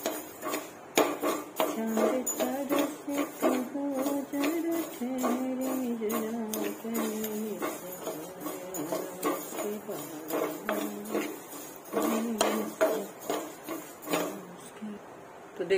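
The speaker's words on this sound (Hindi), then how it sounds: "बस एक मिनट के लिए और इसे भूनेंगे।" Spice masala for mango pickle roasting in a pan, heard as irregular clinks and scrapes of a utensil against the pan at close range, with a voice talking over much of it.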